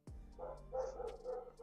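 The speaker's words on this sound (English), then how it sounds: "I wish these dogs would fucking shut up." Dogs barking outdoors at night, a few sharp barks and yips at moderate distance, with no talk over them.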